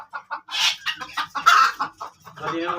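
Native country chicken chicks clucking and peeping in rapid short bursts, close and fairly loud, on a small-scale poultry farm.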